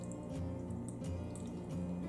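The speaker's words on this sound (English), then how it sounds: "I'm going to add just enough water to cover the surface" Water poured from a container onto a layer of sugar in a pan to start caramel sauce, a soft steady trickle and drip that runs continuously and close, with low kitchen hum beneath and no talking.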